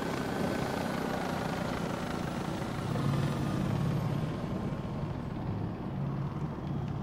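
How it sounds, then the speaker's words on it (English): Helicopter in the video game Insurgency Sandstorm, a steady loud rotor drone that fills the whole stretch without pause, with no talk over it. "Why did they get a chopper?"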